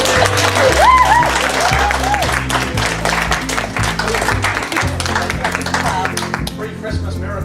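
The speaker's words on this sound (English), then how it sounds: "I think we should all give Tasha a huge round of applause for actually getting her nose out of a book," Wedding guests applaud at a reception, a loud, dense wash of clapping over music, with voices mixed in.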